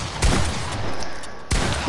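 Gunfire in a shooter video game, heard as two sharp, loud shots about a second and a quarter apart over a steady background of game noise.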